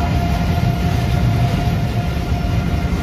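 Steady, loud low rumble of a train crossing a bridge over the Rhine in Cologne, heard up close from the walkway, continuous for the whole stretch with a faint tonal hum above the roar.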